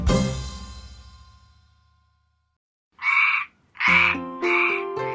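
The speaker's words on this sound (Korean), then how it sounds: "청개구리." A tree frog croaks three times in quick succession, close and clear, after a ringing chime fades out into silence.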